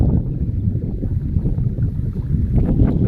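Cold wind blows steadily across an open wheat field, a constant low rushing that buffets the microphone with no voices over it.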